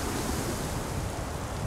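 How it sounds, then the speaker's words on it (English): Steady rain and water in the virtual reality game Chronos make a dense, even wash of noise like surf or wind, moderately loud and unbroken, with no voices. "We've got rain and water."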